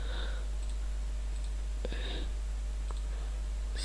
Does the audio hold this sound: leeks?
no